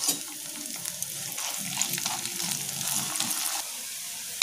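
Chopped green chilli and onion stir-fried in hot oil in a pan, a steady crackling sizzle with scraping stirring strokes, close and moderately loud, no voices.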